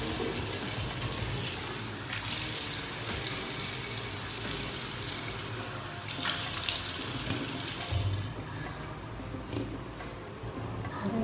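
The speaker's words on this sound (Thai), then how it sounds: "ล้างสิ่งสกปรก ออกให้หมดนะคะ" Tap water runs steadily into a sink while someone washes their face, a continuous close splashing rush with brief shifts as the hands move through the stream.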